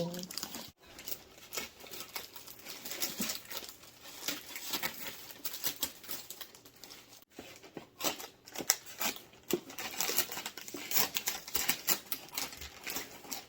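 A Temu parcel is opened at close range, with continuous crinkling, tearing and rustling of packaging plastic and paper in dense irregular bursts throughout, with no talk.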